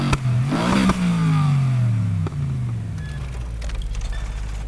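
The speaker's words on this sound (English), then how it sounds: "Let's see if swapping in this engine really does give the car the straight cut gear sound." A BMW M4 engine with straight cut gears in the Need for Speed Heat racing game revs up hard and then winds down, with a loud rising and falling whine, a sharp shift, and a rough idling rumble at the end.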